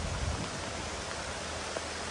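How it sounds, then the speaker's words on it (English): Afternoon rain falls steadily in a sparse rainforest area, a constant broadband hiss of drops with no distinct voices, even and unbroken throughout. "They said we were going to get rain this afternoon, and here it is. It's raining."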